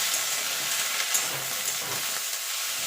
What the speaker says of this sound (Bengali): ধনে পাতাটা দিয়ে আদা রসুন জিরে লঙ্কার সঙ্গে একটুখানি নাড়াচাড়া করে নেব